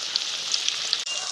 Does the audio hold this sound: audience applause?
no